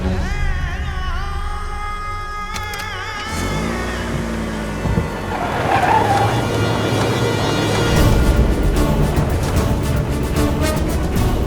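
A car speeds along without stopping, its engine revving hard and rising in a loud, sustained roar that swells toward the end.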